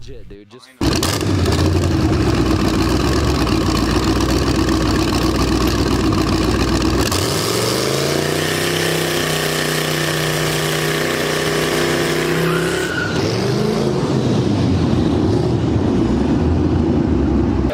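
A 700 HP Mazda RX-7 in a parking lot during a trans brake test, its engine loud and close, holding a high rev, then dropping and climbing again in sweeping pitch changes before settling back.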